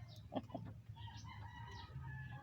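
Chickens cluck in short bursts, and a rooster's crow trails off, all faint, with a low rumble underneath.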